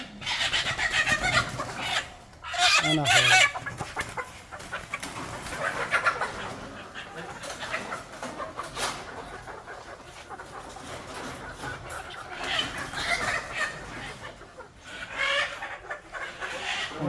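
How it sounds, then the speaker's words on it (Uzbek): Chickens cluck and squawk in bursts while being moved into a new coop, with flapping and handling noises, a person speaking briefly, and steady background rustle throughout. "Birinchi marta yangi tovuqxonaga tovuqlar qamash boshlandi."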